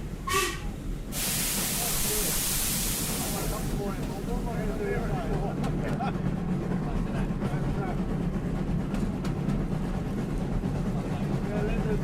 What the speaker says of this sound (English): So in a cloud of steam, it's now setting off with a good load of freight.